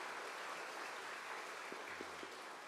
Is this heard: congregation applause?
yes